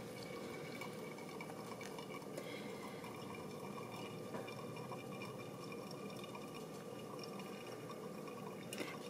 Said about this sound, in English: slowly start to add more boiling water in a slow circular motion.